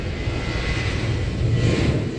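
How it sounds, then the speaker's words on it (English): Jet airliner engine roar at Incheon airport in Seoul, coming through a hotel window as a steady, broad rumble that swells slightly toward the end, with no voices. "that sound you hear there is most likely a Southwest Airlines jet."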